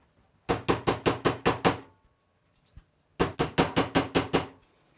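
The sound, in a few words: hammering metal wire flat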